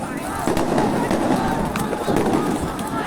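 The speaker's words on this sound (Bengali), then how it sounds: "গুলি করতেছে" Crackling bangs ring out during street clashes between police and protesters near Khulna University, several sharp reports over a constant crowd din and shouting, with tear gas being fired.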